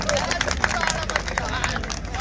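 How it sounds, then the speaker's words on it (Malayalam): Crowd at a temple festival procession applauding a performer, a busy patter of clapping mixed with murmuring voices and general hubbub. "ആ ചേട്ടനൊരു കൈയടി കൊടുക്കും."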